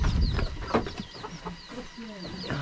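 Chickens at a hen laying coop in rural Arunachal Pradesh cluck and chatter nearby in short repeated calls, with a person talking faintly beneath them.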